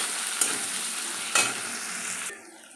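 Onion dropped into hot oil tempered with dried red chilli, bay leaf and whole garam masala for a fish-head dal, giving a steady, bright sizzle with a couple of sharp stirring scrapes before it quiets near the end.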